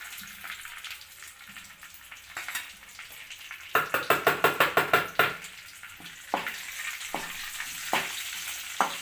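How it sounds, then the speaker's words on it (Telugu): Whole spices, including bay leaves, cloves, cardamom, cinnamon and shahjeera, fry in a little oil for paneer curry, crackling steadily while a burst of rapid rhythmic scraping strokes stirs the pan midway, followed by a few more separate scrapes. "వేసుకొని ఫ్రై చేసుకోవాలి"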